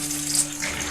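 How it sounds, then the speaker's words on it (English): Water poured from a vessel into a soup pot while cooking Vawksa Lai Suan, a Chin pork soup from Myanmar, a short close splashing gush with no voices. "Now I add 5 more cups of water"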